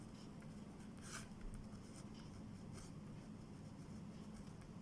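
Pen scratching on paper as a date is written by hand in an accounting journal entry, soft continuous strokes with a few brief louder scrapes, close and quiet, with no talking.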